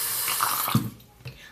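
Tap water running as a paintbrush is wetted for applying eye pigment, a short close splashing gush that drops off sharply, followed by a faint brief drip.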